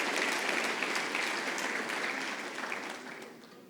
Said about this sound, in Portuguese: Você pode aplaudir esse nome santo de Jesus e glorificar o nome dele?